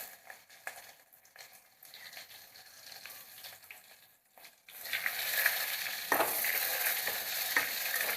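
Garlic goes into hot tempering oil with cumin for amti, starting with quiet stirring and scraping, then a loud, steady sizzle that rises halfway through and continues close up.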